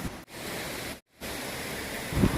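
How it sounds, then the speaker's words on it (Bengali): A waterfall in the Darjeeling hills roars as a continuous broadband rush, briefly dropping out twice, with a deeper rumble swelling near the end. "ঝর্ণার আওয়াজটা একটু শোনো"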